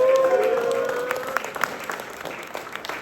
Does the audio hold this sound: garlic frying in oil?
no